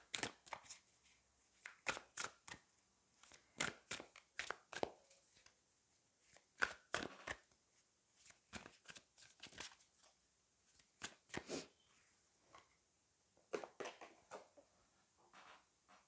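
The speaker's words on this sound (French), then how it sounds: "je vais prendre une carte de Fallen Angels et après on prendra une carte du Loputin et une carte des anges" Tarot cards being shuffled and drawn from a deck, close and soft, in irregular bursts of crisp flicks and slaps with short pauses between them, no voice over them.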